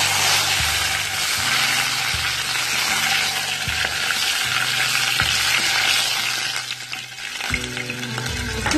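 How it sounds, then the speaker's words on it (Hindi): Cumin seeds sautéing in hot oil in a pan for aloo palak saag, a loud steady sizzle up close, with a low background hum and no talk. "यहाँ मैं डाल रही हूँ जीरा। जीरा अच्छा सा सौटे हो जाएगा"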